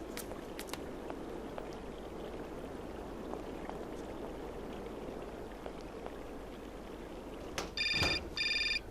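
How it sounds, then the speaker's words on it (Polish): Telephone ringing in the game Syberia, two short electronic bursts of ringing near the end, heard over a low background ambience with faint drips. "O, jeszcze telefon."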